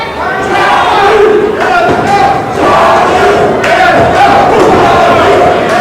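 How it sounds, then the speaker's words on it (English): A wrestling crowd cheers loudly and close, a dense roar of voices that surges in waves with brief dips between, thick with shouted chants and a thud or two beneath. "Crowd fully behind Baker here"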